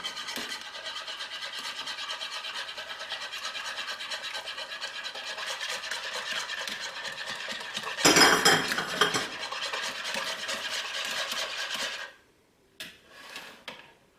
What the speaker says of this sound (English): I'm just gonna very, very slowly pour my milk mixture into the egg. And I'm gonna whisk the whole time.